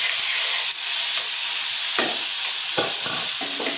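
Chopped onions and tomatoes hiss and sizzle loudly as they hit hot oil spiced with red chili, curry leaves, cloves, star anise and asafoetida for pav bhaji khichdi. A steady frying roar is broken by a few scraping stirs.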